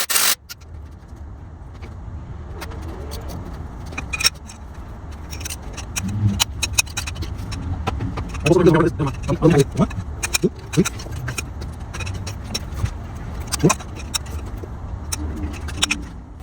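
A socket wrench turns out the intake manifold bolts on a Mercury Grand Marquis 4.6L engine, making ratcheting clicks, metallic scrapes and tool clanks close by, with someone talking at intervals.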